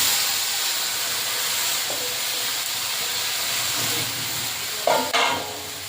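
Chopped cabbage goes into a hot wok of oil with panch phoron, fried onion and ginger, giving a steady, close hissing sizzle that swells briefly with a couple of louder bursts near the end.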